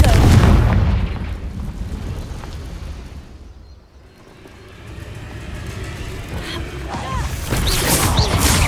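A Confringo blasting spell in Hogwarts Legacy erupts in a loud, deep explosive boom that fades into a low rumble, then swells again with crackling debris and combat noise.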